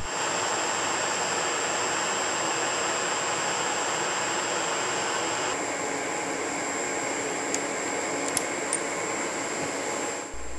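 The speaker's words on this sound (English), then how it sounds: "Turn the spindle on to 1000 RPM." A milling machine spindle spins at 1000 RPM for edge finding, giving a steady, even broadband whir with a faint high whine that runs throughout, with a few tiny clicks near the end.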